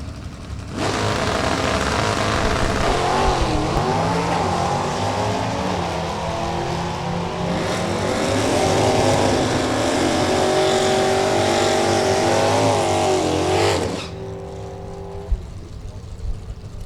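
Drag race cars roar loudly down the strip at a Topeka drag racing event, including a 4-cylinder front-wheel-drive LeBaron, with engine noise sustained for about thirteen seconds before cutting off, an announcer talking over it.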